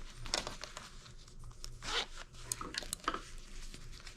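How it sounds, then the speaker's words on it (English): Close, quiet zipper pulled along a large wallet, several short raspy strokes with soft rubbing and handling noises between them. "when I zip it back up"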